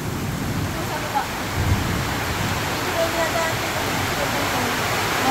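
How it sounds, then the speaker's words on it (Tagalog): Rushing floodwater during Typhoon Paolo roars as a dense, continuous wash of noise, loud and steady throughout with no clear breaks. "Ay, baha na."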